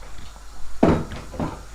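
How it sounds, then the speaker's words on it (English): In a home kitchen, a cupboard door bangs twice in quick succession: a sharp, close wooden knock, then a softer second one a half-second later. "I need to open this door again"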